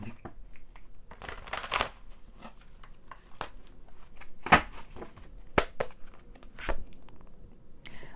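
Tarot cards are shuffled and drawn in a quiet room, giving soft riffling bursts, light flicks and occasional sharper card snaps spaced irregularly.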